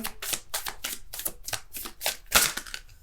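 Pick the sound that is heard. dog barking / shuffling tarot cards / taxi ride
shuffling tarot cards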